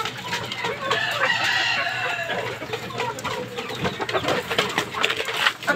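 A hen and a gamecock rooster squabble nearby, with loud clucking, squawks and a crow-like call in a busy, continuous burst with no talk.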